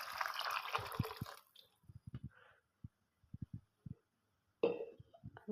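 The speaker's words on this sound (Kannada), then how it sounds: "ಇದಕ್ಕೆ ನೀರು ಹಾಕೋತಾ ಇದ್ದೀನಿ." Water poured into a pan of chopped ridge gourd, heard as a burst of splashing followed by sparse, quiet drips and small knocks, with a second splash near the end.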